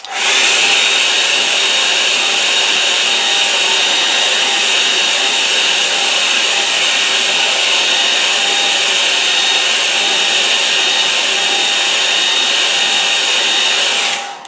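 A hair dryer blows steadily over a wet watercolour painting of marsh barns, giving a loud, even whooshing hum that holds unbroken for the whole stretch with no voices.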